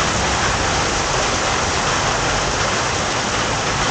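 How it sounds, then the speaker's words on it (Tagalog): Heavy rain pours down in a steady, loud, unbroken hiss of dense drops with no pauses or voices. "Papakalipas muna tayo dito ng ulan. Papatila muna tayo ng ulan."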